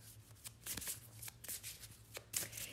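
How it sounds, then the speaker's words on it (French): A deck of cards shuffled by hand and a card drawn during a tarot-style reading, with close, crisp flicks and riffles in uneven bursts and no voice over them. "je vais tirer une carte"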